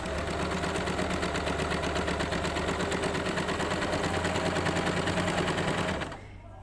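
Sewing machine running continuously while stitching shirring elastic into fabric, a steady close whirring rattle that stops abruptly near the end.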